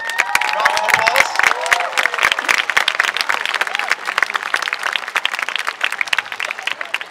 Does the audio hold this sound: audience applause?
yes